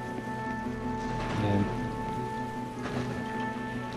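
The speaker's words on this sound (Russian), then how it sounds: "Дождик грибной идет." Rainfall in the video game Resistance 3, a steady broadband patter of drops with a soft swell partway through, heard alone at moderate level over a faint game ambience.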